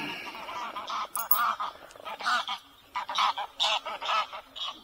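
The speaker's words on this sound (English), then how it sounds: "The geese are doing well today." Geese honk repeatedly beside a fishing lake, several loud, nasal calls coming in uneven bursts from fairly close, with short pauses between them.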